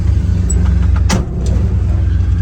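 An old pickup truck with 54,000 original miles idles close by, a loud, steady low rumble with a brief clunk or door-like knock partway through, no talk.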